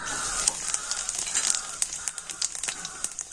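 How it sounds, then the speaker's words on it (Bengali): Whole cumin seeds dropped into hot oil, crackling and popping in quick irregular bursts over a light sizzle, close up with no voices. "ভালো মতো গরম হয়ে গিয়েছে তেলের মধ্যে দিয়ে দেব গোটা জিরে"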